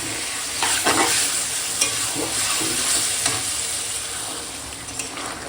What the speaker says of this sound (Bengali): দেখো কষাচ্ছি সব মশলাপাতি দিয়ে দিয়েছি এবার কষাবো